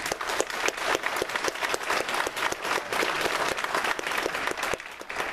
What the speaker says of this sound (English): I'd like to give an applause